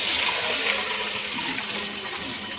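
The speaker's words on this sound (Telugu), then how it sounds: "సో వాటర్ యాడ్ చేస్తున్నాం ఫస్ట్." Water gushes loudly into a pot for chicken biryani, a close, steady splashing pour that eases off slightly toward the end.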